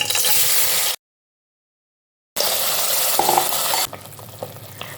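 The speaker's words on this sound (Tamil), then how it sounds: "இப்போ நம்ம அரைச்சி வச்சுருக்க வெங்காய தக்காளி விழுதை நம்ம குக்கரில் சேர்த்துக்கலாம்." Ground onion and tomato paste hits hot oil with cumin in a pressure cooker, a loud crackling sizzle that cuts out abruptly, resumes with stirring scrapes, then settles to a quieter hiss.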